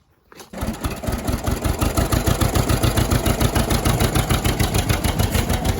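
An antique tractor engine sputters to life and settles into a steady, rhythmic chugging idle, close and loud, with even thumping pulses.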